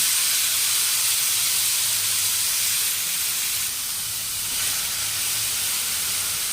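Tomatoes sautéing in a hot pan for a gravy give off a steady, close hissing sizzle that holds evenly throughout with no talking.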